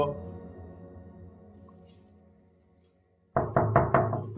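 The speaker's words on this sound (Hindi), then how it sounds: "अरे 10 दफा नॉक किया, खोल ही नहीं रही दरवाजा" Knuckles rap on a door: after a fading sustained tone, four firm, loud knocks land in quick succession, close and sharp.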